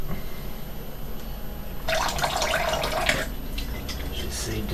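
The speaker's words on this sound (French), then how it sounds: "j'essaye de rincer comme ça en fait, avec très peu d'eau en fait" Water runs from a tap in a thin stream for rinsing, a low steady trickle that swells into a brighter splashing burst in the middle, then eases back to a soft flow.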